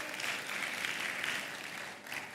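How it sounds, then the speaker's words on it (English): Audience applause at the Africa Hospitality Summit 2025 after a speaker's talk on hospitality in Africa: a steady, dense wash of clapping from a large crowd, sustained throughout, with no voices over it. "A round of applause for Mr."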